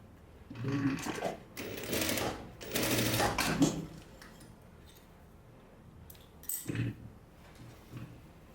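A sewing machine sews a folded-down hem on a baby swimsuit in two or three short, close bursts, followed by quieter handling and a brief final burst.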